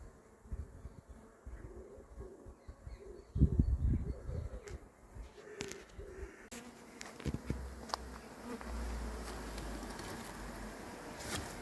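A honeybee swarm buzzing and flying inside a car boot, a low continuous drone of many bees close by, with some thumps and rustling handling noises.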